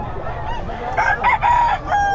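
Rooster crowing with some clucking at a pet market in Bocaue, Philippines, a few bright, warbling calls rising over background crowd noise.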